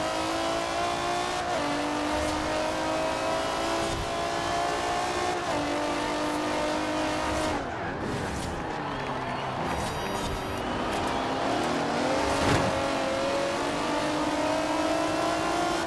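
A racing car engine in a Forza Horizon video game revs loudly and steadily, with gear shifts and rising pitch sweeps near the middle, continuous throughout with no talking.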